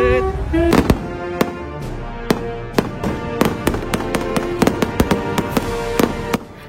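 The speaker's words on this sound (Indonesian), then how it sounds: "ini dia pesta kembang api yang diadakan tiap tanggal 4 Juli di hari kemerdekaan Amerika Serikat" Fourth of July fireworks in Asheville bursting in a rapid irregular string of sharp booms and crackles, loud and close, with reports overlapping through the display and no talking.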